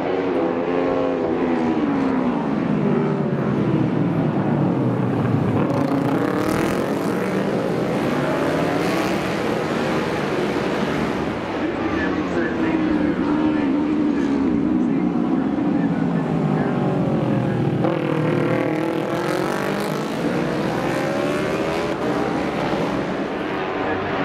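Super Twin motorcycles racing in a four-lap NW200 road race: a loud, continuous engine roar that rises and falls in pitch as the machines pass, with a steady wash of sound throughout.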